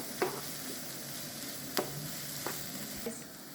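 Diced garlic and onion sauté in a pan with a steady, soft sizzle, broken by a few quick spatula scrapes as they are mixed; no talking.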